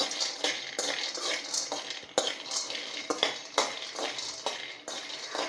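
Peanuts dry-roasting in a hot kadhai, stirred continuously so they rattle and scrape against the metal in a busy, uneven clatter, close by and without speech.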